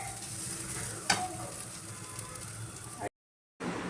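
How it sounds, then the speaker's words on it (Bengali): Fried okra and onion with Maggi masala are stirred in a hot pan, giving a steady sizzle with scraping strokes and one sharp utensil knock, then a brief cut to silence. "এটা ভালো করে মিক্স করে নিই।"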